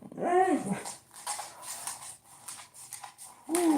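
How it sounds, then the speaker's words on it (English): A female dog gives two loud, close bark-whines, one at the start and one at the end, with scattered rustling and low sounds between. "pay attention when she bark, cause she ain't barking for no reason"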